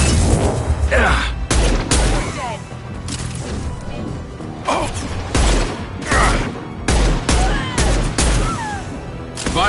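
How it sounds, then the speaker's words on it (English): Rapid gunfire from a Mass Effect 2 video game firefight, high-impact shots cracking in loud repeated bursts with heavy impacts and a voice speaking intermittently between volleys. "Firing a high-impact shot!"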